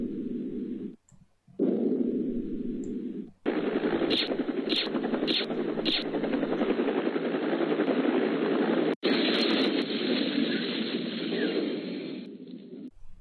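A military-grade helicopter boss in a Flash video game roars as a steady loud engine-and-rotor drone, broken by brief gaps and sharp bursts that sound like gunfire.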